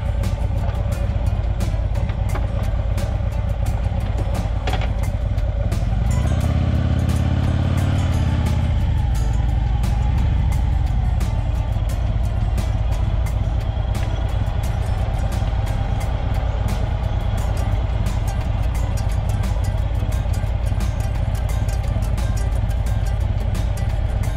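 A motorcycle rolls down a road through Elks Brox Park in low gear, its engine a steady close rumble that swells into a louder low surge partway through before settling back to an even drone.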